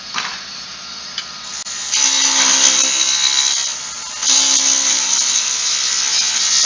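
A wooden spindle spins on a lathe while a skew chisel cuts it, giving a steady, close hissing shave that swells louder from about two seconds and again near the end, with no talking.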